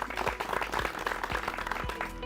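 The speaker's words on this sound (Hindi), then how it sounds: "सबसे पहले हमारे विशेषज्ञों का जोरदार तालियों से स्वागत करते हैं।" Loud, dense applause from an audience welcoming experts on stage at a Hindi farmers' question forum on rabi-season pest management, many hands clapping steadily and close by throughout.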